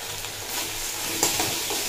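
Ground turmeric, cumin, coriander and a pinch of Kashmiri chili powder sizzle steadily in a frying pan for a vegetarian potol dish, with a few soft scrapes of stirring over a continuous hiss.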